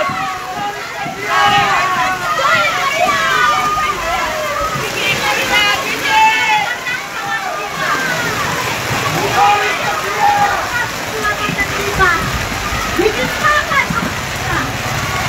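Heavy rain pours down and splashes steadily onto the surfaces around an outdoor church youth Way of the Cross procession, loud and constant, while a crowd of voices chatters and calls underneath.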